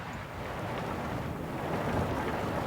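Carts rumbling through a town in the city-building game Anno 1800, a steady broadband patter much like rain drumming on rooftops, continuous and fairly loud with no talking.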